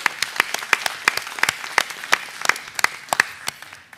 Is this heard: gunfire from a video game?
no